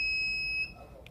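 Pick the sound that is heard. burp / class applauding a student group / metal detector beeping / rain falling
metal detector beeping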